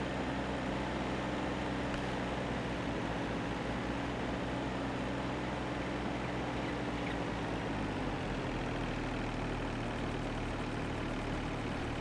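In Farming Simulator 22, a small Carraro tractor engine runs steadily as it drives along a field edge, a continuous low purring drone that holds at an even level throughout with no talk over it.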